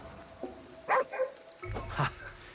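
Dog in the game Ghostwire: Tokyo giving a few short yips and barks in a quick uneven pair of bursts, fairly close.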